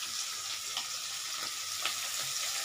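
Garlic, a bay leaf and dried chili fry in hot oil, giving a soft continuous sizzle with faint scraping stirs, quiet and close.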